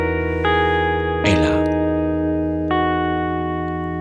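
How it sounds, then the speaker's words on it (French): Sustained E Lydian drone from a guitar assistant app, a steady harmonic tone holding throughout, with a brief burst of other sound partway and someone speaking briefly over it. "le bourdon. Tu cliques dessus."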